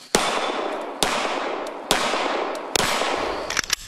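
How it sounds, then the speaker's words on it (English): Rapid pistol shots from a teenage competitive shooter, four sharp loud cracks spaced roughly a second apart with a ringing tail after each, then a faster flurry of lighter reports at the end. "Then her pistol, 17 shots in 17 seconds."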